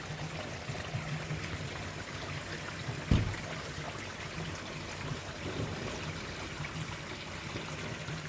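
Water from a shower-style outlet pours steadily into a garden koi pond, a continuous soft splashing and trickling, with one brief louder splash partway through.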